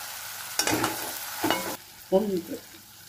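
Bhindi do pyaza masala being stirred and fried in a pan, with short bursts of scraping and sizzle coming and going, close by and moderately loud, and no talking.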